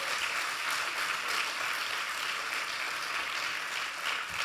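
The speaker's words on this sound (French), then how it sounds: "vous pouvez les applaudir." Steady, dense applause from a large audience at a political rally speech in Belgium, continuous and fairly loud with no voices over it.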